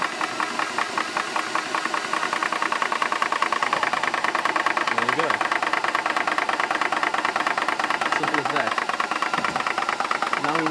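A Nomad vehicle's engine chugs at idle, a steady rhythmic mid-pitched rumble with a knocking pulse running continuously and fairly close throughout.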